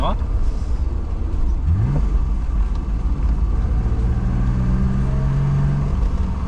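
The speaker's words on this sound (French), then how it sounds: "un bon son de 6 cylindres" A BMW E12 5 Series with a six-cylinder engine runs steadily while driving, a smooth low drone with a rising engine note, heard from inside the insulated cabin under steady road and wind noise.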